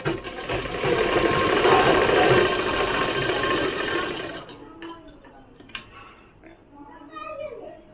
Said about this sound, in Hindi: इसे भी मैं ऐसे ही स्टिच करते आऊँगी पूरा ऊपर तक